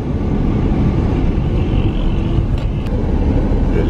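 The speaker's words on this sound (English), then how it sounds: "So we're just driving into the camp now." A car rolls along a road into a refugee camp in Syria, its steady engine and tyre rumble filling the scene as a continuous close drone with no talk.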